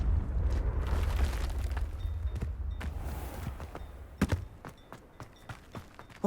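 Confringo blasting spell explosions in Hogwarts Legacy, starting with a low rumbling roar that fades, then a quick run of sharp, close pops and bursts spaced a fraction of a second apart.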